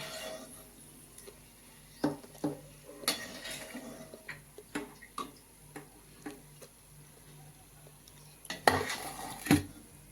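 Ingredients for puffed rice chivda are being fried in a pan at a quiet level, with a faint low sizzle under a series of sharp clinks and taps of a spoon against the metal.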